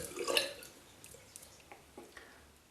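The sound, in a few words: rinsing a razor under running water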